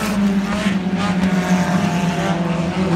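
Several race cars battle closely on a track during a heat race, a loud, continuous engine roar with overlapping droning tones that swell and fade slightly as the pack passes, with no talk.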